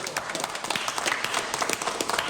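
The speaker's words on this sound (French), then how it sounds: "on l'applaudit, s'il vous plaît" A short burst of applause, close and fairly loud, with dense overlapping claps and no voices over it.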